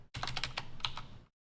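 Keyboard keys clatter in a quick burst of close, crisp taps as a MySQL command is typed on a computer keyboard, with no voices.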